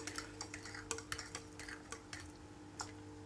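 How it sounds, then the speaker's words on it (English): Dried mashed potato powder stirred into hot water in a bowl, giving soft, irregular scraping and tapping of a utensil against the bowl, close and fairly quiet. "Tip the dried powder into a bowl and add some hot water. Give it a stir"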